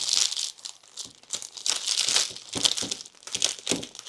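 Gift wrap crinkles and rustles up close as a ribbon is tied around the wrapped package, in repeated crisp bursts of paper and ribbon handling.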